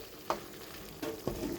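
Pinakbet vegetables with onion, garlic and shrimp paste (alamang) in a pan, a low sizzle with two or three distinct stirring scrapes, quiet and close.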